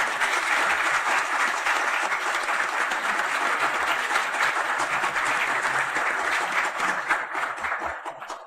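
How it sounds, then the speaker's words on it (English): Applause from a conference audience fills the room, a dense, steady wash of clapping that holds for several seconds before tapering slightly. "hopefully you'll join me in thanking them with a round of applause for their work"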